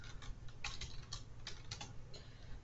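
Typing on a computer keyboard while searching for a browser extension in the Chrome Web Store, a quick, uneven run of light clicking keystrokes over a steady low hum, with no talk.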